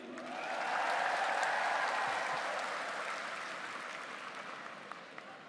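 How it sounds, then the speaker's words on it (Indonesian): An audience at an Indonesian land-certificate handover event in Sidoarjo breaks into applause that swells quickly, holds, then gradually tapers off, with no talking over it. "untuk Ibu Khofifah Indar Parawangsa, tepuk tangan lagi."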